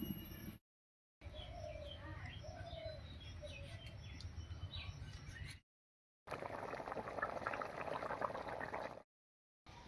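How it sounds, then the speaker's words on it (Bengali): Rui fish curry broth bubbles at a rolling boil in a pan, a close, soft, steady gurgle that comes in separate stretches with short silent gaps between them. "ঝোলটা বলক উঠে গেছে।"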